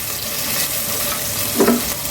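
Garlic paste and ginger paste frying in oil with already fried onions make a loud, close, steady sizzle, with a short scrape of stirring toward the end and no talking.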